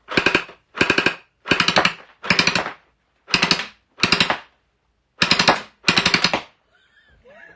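A Dart Zone gel blaster fires in full auto, eight loud, close bursts of rapid rattling shots, each under half a second, separated by short pauses, followed by faint movement.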